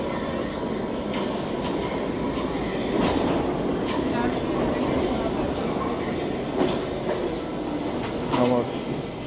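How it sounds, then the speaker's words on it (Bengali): A New York City subway D train rumbles loudly and steadily nearby, with clattering wheels and faint metallic squeals over a continuous roar, and voices faintly audible in the background. "ডি ট্রেন, আমি এখন এই ট্রেনে উঠবো।"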